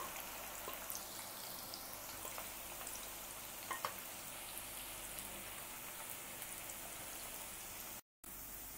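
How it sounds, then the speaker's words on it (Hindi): Onions frying on high flame in hot oil for mutton biryani, a continuous even sizzle like light rain with faint scattered pops, steady and close, no talking, cut by a brief silent gap near the end. "प्याज जो है हाई फ्लेम पे फ्राई कीजिएगा"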